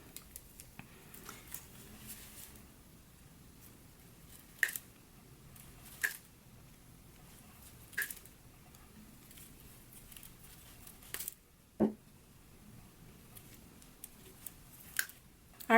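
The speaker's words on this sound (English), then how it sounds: "I'm just going to remove the zipper teeth on this side." A hand tool pries metal teeth off a zipper while a jacket is being sewn, producing quiet, scattered snips and sharp clicks spaced a second or two apart over a soft background hiss.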